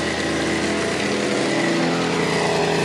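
A petrol brush cutter runs after being started without its pull cord, its small engine buzzing loudly and continuously close by, ready for grass cutting.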